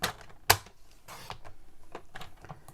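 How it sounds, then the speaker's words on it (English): A paper trimmer slices through designer series paper with a sharp opening clack, then a rough sliding swish and several lighter clicks and rustles close by. "We are going to cut this designer series paper to 1 3/4"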